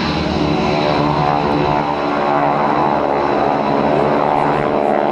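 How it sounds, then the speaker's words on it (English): GEICO Skytypers propeller airplanes roar overhead at a military open house airshow, a loud sustained drone of several engines with a slowly shifting pitch and no audible talk. "you can see them inbound as they approach for a low-altitude pop-up bomb run"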